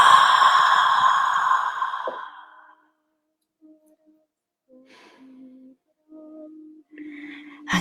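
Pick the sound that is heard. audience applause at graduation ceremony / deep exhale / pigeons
deep exhale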